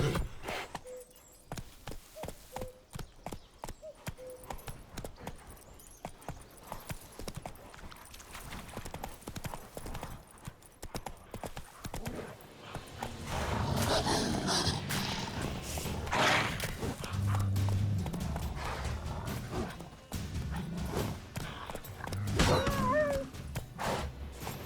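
Roach, a horse in The Witcher 3, clip-clops along with rhythmic hoofbeats that start sparse and steady, then build into a louder, denser trot over a rumbling game backdrop, with a brief spoken voice near the start.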